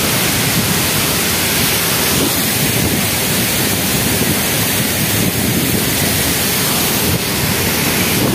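Water pours down through pipes inside a power plant cooling tower, making a loud, constant rushing hiss that stays even and unbroken throughout.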